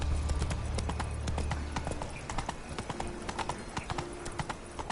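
Geralt's horse Roach gallops in The Witcher 3, hooves clip-clopping in a fast, steady, close rhythm that slows toward the end.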